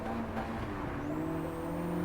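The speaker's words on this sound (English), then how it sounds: "Just handbrake the whole curve. And what you want to do is put the front of your car almost on the wall. Like, it's basically a drift. You're drifting." A car in Gran Turismo 7 drifts through a curve on the handbrake, giving a steady engine drone with faint tire squeal, continuous and moderately loud, with no talk.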